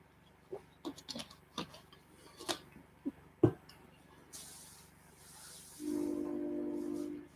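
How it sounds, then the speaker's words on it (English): A distant train passing through town rumbles with hissing and a few clanks, ending in a sustained horn or whistle tone, fairly faint. "Train coming through town."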